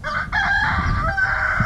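A rooster of the Icelandic chicken breed crows on a farm, one loud, close, sustained cock-a-doodle-doo filling the short moment alone.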